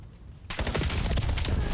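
Rapid gunfire fills a Call of Duty League match, starting abruptly after a quiet half-second and continuing as dense, loud bursts of overlapping shots to the end.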